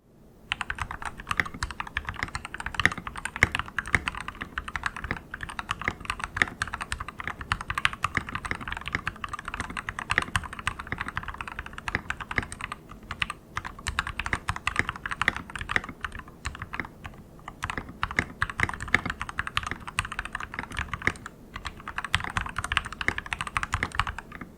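Rapid, steady typing on a Dierya T83 mechanical keyboard with a metal plate and thin keycaps produces a dense stream of crisp, clacky keystrokes, close and clear, with no voices.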